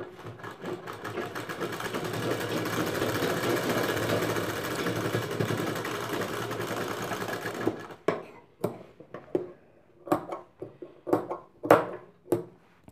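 Sewing machine running a continuous double line of stitching on a handmade potli bag, a steady whirring drone for several seconds, then short separate bursts of stitching with pauses, close and fairly quiet.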